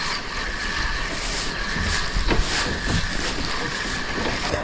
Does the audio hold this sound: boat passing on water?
yes